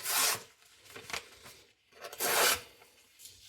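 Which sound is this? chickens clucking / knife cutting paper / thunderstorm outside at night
knife cutting paper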